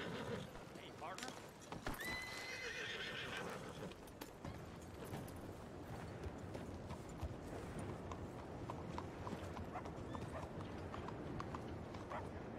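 Horse in the Red Dead Redemption 2 game whinnying loudly near the start, then hooves clip-clopping steadily over a continuous outdoor ambience, with a voice talking over it.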